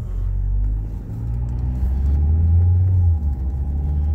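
A Ford Focus with a DPS6 dual-clutch gearbox pulls away onto a 55 mph road, its engine a steady, close low rumble from inside the cabin that rises gently as it gains speed.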